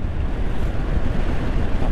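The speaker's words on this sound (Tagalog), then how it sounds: "Lakas ng hangin guys, may bagyo baga." Strong gusty wind buffets the microphone on a moving Honda Beat 110 FI scooter, a loud, constant low roar with no voices.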